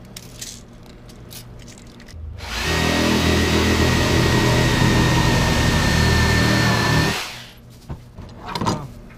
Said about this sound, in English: I cut those two 2x4s.